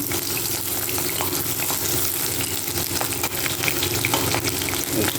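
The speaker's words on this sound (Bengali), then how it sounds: "বড়া ভাজাটা তো হতে অনেকটা সময় নেয়, বেশ লাল লাল করে ভাজতে বেশ কিন্তু অনেকটাই টাইম লাগে" Lentil fritters (bora) frying in a pan of oil, a continuous dense sizzle with scattered pops and crackles, close and steady, with no speech.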